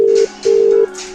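Loud, close telephone call tones sound as steady single-pitch beeps: one short tone, a pause, then a longer tone, with a faint continuing hum afterward.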